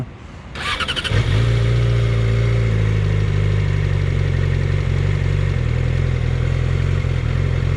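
A Yamaha R6 motorcycle with nearly 70,000 km and an engine warning light stuck on cranks and catches, then settles into a loud, steady idle with a low, even thrum close by.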